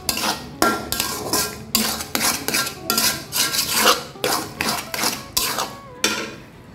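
A spoon stirs rice flour into a pot of kachu shak (taro leaf greens), making repeated scraping and clattering strokes against the pan in a steady rhythm, close and fairly loud with no talking.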